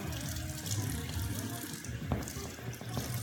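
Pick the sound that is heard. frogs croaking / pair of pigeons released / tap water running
tap water running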